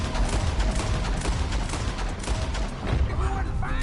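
Dense, continuous gunfire in the game Red Dead Redemption 2, with rapid overlapping shots and booms throughout, layered with shouted voices and other game sounds.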